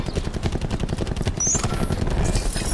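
Rapid automatic gunfire in a shooter video game rattles continuously, loud and dense with overlapping bursts, with a brief high electronic tone partway through.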